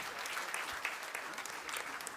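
An audience at an evening spiritual gathering clapping steadily in a dense, continuous round of applause, moderately close, with no talk over it.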